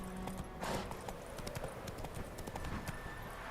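Roach, Geralt's horse in The Witcher 3, gallops in a steady rapid clip-clop of hooves, fairly close and continuous, with no voices over it.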